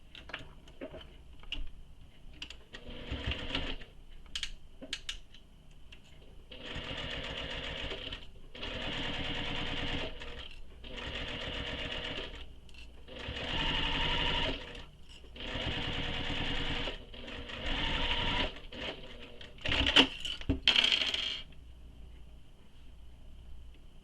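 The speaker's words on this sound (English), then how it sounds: "We're going to top stitch both these long edges with the seam allowance she gives in the pattern." A sewing machine top stitches the long edges of a tote bag strap, running in several steady bursts of a few seconds each with short pauses between, close and clear.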